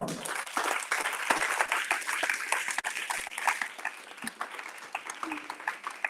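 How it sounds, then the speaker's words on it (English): Audience applause at an event: scattered, uneven clapping with distinct individual claps, moderately loud, with crowd murmur and a few voices under it. "Can you give him a better round of applause?"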